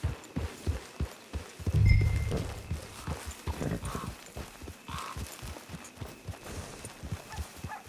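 Horse hooves clip-clop at a steady walking pace in Red Dead Redemption 2, close and rhythmic, with a brief low rumble early on and faint ambient game sound behind.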